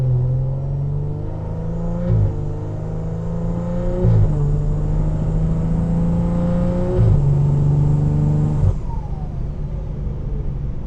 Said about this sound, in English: That's a loud sound coming from the turbo.